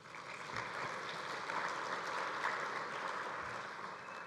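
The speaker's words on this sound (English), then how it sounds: "I still would like to give her a round of applause for all her work" Conference attendees at the 2019 NBIA Conference give a round of applause for the organizer, steady hall-filling clapping that holds at an even level throughout.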